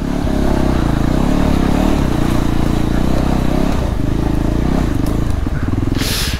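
A Voge 300 Rally enduro motorcycle engine thrums loud and close, steady and throaty with slight shifts in pitch as it rides along, dominating throughout.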